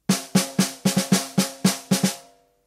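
Close, loud snare drum playing a double stroke roll figure accented on the fourth 16th partial, about ten crisp, resonant strokes in paired, bouncing groupings that ring out at the end.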